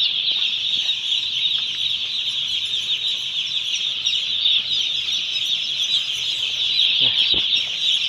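Broiler chickens in a poultry house produce a steady, dense high-pitched chorus of chirping and clucking, continuous and close throughout, with a brief flap or bump near the end.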